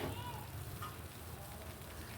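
Spices with turmeric, chili powder and salt are stirred in a pan for mutton biryani, giving a faint, continuous sizzle and soft scraping heard close and quiet.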